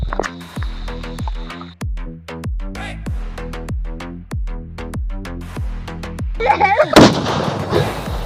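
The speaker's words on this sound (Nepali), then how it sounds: "बममा कति आवाज थियो" A rapid string of loud, sharp Diwali firecracker bangs in a steady rhythm, ending in a final crackling burst.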